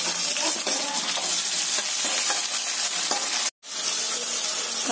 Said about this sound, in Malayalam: രണ്ട് തക്കാളി നമ്മൾ കഷ്ണങ്ങളായി അരിഞ്ഞു വെച്ചിട്ടുണ്ടല്ലോ, അതും കൂടെ ഇതിന്റെ കൂടെ ചേർത്ത് കൊടുത്ത് നന്നായിട്ട് വഴറ്റിയെടുക്കാം.